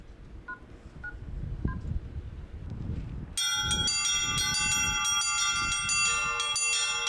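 Church bells in Yeniseysk are struck by an electronic bell-ringing machine. After a few seconds of quiet background noise, a loud, rhythmic peal of several bells starts and keeps ringing on.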